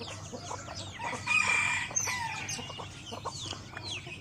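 Roosters crow at a rural spot on a cool, overcast morning, one fairly close and others farther off, with overlapping calls and some clucking from other fowl.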